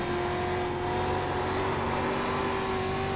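A street stock race car at speed on a short oval track, its engine a steady loud droning roar with a constant pitch and no pauses, held near throughout without speech.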